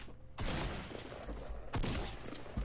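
Loud blasts of shotgun fire in a Call of Duty match, two heavy booms about a second apart over dense battle noise and a fainter shot at the very end.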